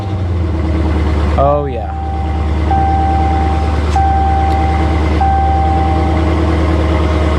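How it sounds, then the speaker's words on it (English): A Dodge Challenger Scat Pack's deep, rumbling V8 idles steadily and loudly up close through its exhaust, door open; someone briefly speaks over it, and a faint electronic beep repeats in the background. "so we can get a nice sound of that exhaust."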